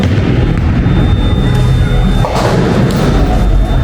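A bowling ball rumbles loudly down the lane and crashes into the pins, a continuous heavy roar with a thudding impact midway, in a noisy, echoing space.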